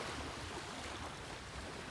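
Indian Ocean surf along the shore, a broad, soft wash of breaking water with wind hiss, fairly faint and continuous over a brief stretch, with no voices.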